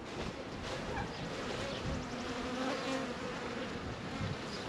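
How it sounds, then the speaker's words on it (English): Honeybees buzzing densely around a hive in warm weather, a steady, close, continuous drone with many overlapping wingbeats and no talk. "Bees are going crazy, being a little bit warmer."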